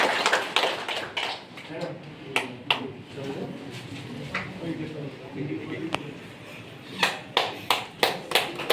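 Scattered clapping at a cake-cutting celebration in an office, sharp individual claps in loose bursts rather than a full ovation, heard close with people talking over it.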